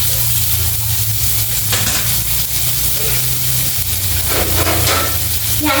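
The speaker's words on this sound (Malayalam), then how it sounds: "ഇതാ നമുക്ക് ഇളക്കി കൊടുക്കാം" Chopped onions fry loudly in a pan and are stirred with a spoon, a steady close sizzle with scraping stir sounds running through the whole clip and no talking.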